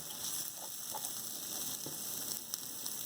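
Chilies sizzling in a pan with ginger and oil while making channa dal, a steady close crackling hiss with faint stirring scrapes, no voices.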